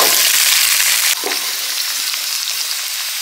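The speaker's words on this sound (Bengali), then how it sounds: "আলু লাল করে ভেজে নিয়েছি।" Potatoes deep-frying in plenty of hot oil, a loud, dense, continuous sizzle close up that briefly shifts and settles slightly lower in level partway through, with no talking.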